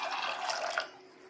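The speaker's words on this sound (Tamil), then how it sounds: "ஒரு கப் அளவுக்கு ஃப்ரெஷ்ஷான பச்சை பட்டாணி, இதுக்கு முங்குற அளவுக்கு தண்ணி சேர்த்து" Water is poured into a kadai over a cup of fresh green peas, a brief splashing, bubbling pour that fades out after about a second, close and fairly quiet.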